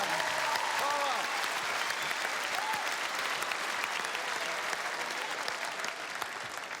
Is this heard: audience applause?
yes